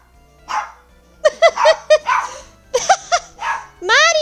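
A dog in the Phoenix Wright Ace Attorney Justice for All video game barks in quick bursts, sharp and close, with a few yips and a final drawn-out whine, among excited shouting voices.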